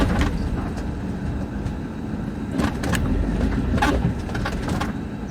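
A camper van rolls steadily along the road, its engine and tyre roar forming a continuous close drone with occasional brief rattles and bumps.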